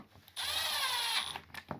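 Power drill driving a couple of screws into the housing of a Ridgid 18-gauge Hyperdrive brad nailer during a teardown, one sustained close whirring run of about a second followed by a couple of brief spurts.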